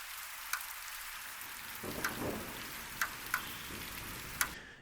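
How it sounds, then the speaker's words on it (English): Steady rain patters on a surface, with scattered crisp drips and ticks standing out over the soft continuous wash; no voices. "In the beginning, I have a rain, like some thunderstorm rain."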